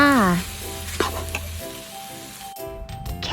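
Chinese kale and coriander are stir-fried in a hot pan, sizzling and scraping steadily while a voice talks over the cooking at the start.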